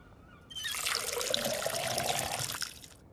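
Water poured onto potted plants in the Schedule 1 video game makes a steady trickling splash that starts abruptly, runs about two seconds, then fades out.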